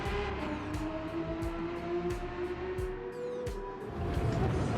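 A race car engine in Gran Turismo 7 snarls as it brakes and downshifts for a chicane, its pitch dropping through a series of sharp gear changes, loud and close, with possible faint talk underneath.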